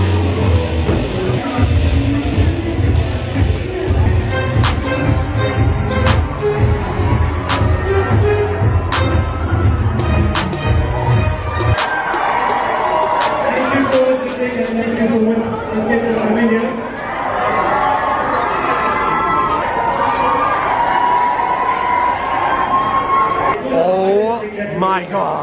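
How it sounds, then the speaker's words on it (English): A large crowd gathers outside awaiting a celebrity appearance, a dense continuous chatter of many voices with shouting, loud and close throughout, with a heavy low rumble in the first half that drops away. "We have a whole crowd outside."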